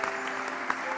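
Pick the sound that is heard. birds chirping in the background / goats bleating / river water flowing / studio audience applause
studio audience applause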